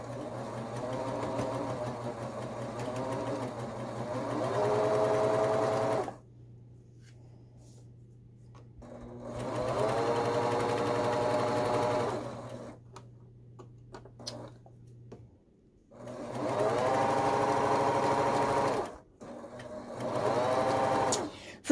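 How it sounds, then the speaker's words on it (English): A serger sewing machine stitches a hoodie in three long bursts of rapid, rattling whir, with quiet pauses between them and a low steady hum under the whole sequence. "And you can even do it right. Turn a corner with a serger."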